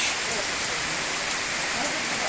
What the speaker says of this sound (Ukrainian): іде дощ